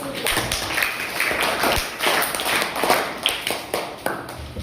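Audience applause welcoming a student speaker at a school Independence Day celebration: a steady wash of many hands clapping, dense and sustained for several seconds at moderate loudness, with scattered sharper claps standing out.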